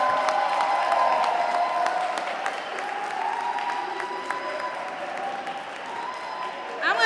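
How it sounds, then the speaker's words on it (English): Audience at a youth empowerment conference applauds and cheers, a steady wash of clapping with crowd voices and shouts mixed in throughout. "I want you to clap it up"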